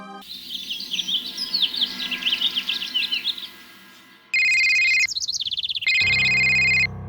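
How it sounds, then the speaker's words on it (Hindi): A bird chirps in a rapid, busy run of high tweets for a few seconds, followed by loud, steady electronic trilling tones like a ringtone, with no voices. "अरे यार, ये चिड़िया भी ना"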